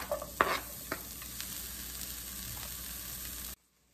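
Onion is added to a tablespoon of oil in a pan, giving a soft, steady sizzle with a few louder stirring clicks near the start before the sound cuts off.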